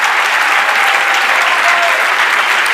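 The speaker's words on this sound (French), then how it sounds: "Encore une salve d'applaudissements." Sustained applause from a seated audience at the Swiss final of a three-minute thesis contest, loud and even throughout, a dense wash of many hands clapping without a break.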